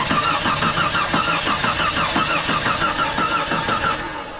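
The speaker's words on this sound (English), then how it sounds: "so we got this starter on, and it turns over now" A Jeep XJ engine cranks over on a freshly fitted starter with a rapid, rhythmic chugging, loud and close, then catches and settles toward a rough idle near the end.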